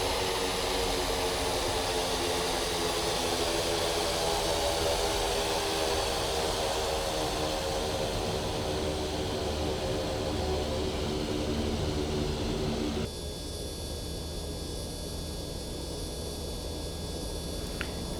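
A Quest Kodiak turboprop in the X-Plane 11 simulator runs at low idle while taxiing, a steady close droning whine with broad airy noise that drops slightly in level and shifts tone near the end.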